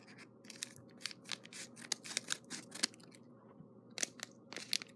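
Scissors snipping and crinkling through a blind bag pack up close, a series of irregular sharp cuts and plastic crunches with short pauses between them, no talk.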